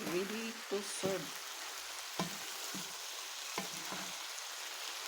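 Pasta with white beans and sausages being mixed together in a pan, soft sizzling under a few scraping stirs of a utensil, close and fairly quiet, with a short bit of speech near the start.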